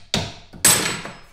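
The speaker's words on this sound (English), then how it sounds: "I'm going to try and hammer them out" Two sharp metal-on-metal hammer blows on stuck brake pads seized in their caliper sliders during a car handbrake shoe job, close and loud, each strike ringing briefly before fading.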